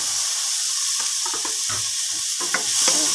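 Onions and tomatoes sauté in a pan with a loud, close, steady sizzle and hiss, broken by a few soft stirring scrapes over about three seconds.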